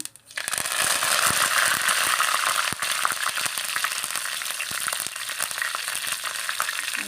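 Curry leaves hit hot oil in a pan for a lentil curry and burst into a loud, steady, crackling sizzle. Close up, it carries on for several seconds with scattered sharp pops and no talking over it.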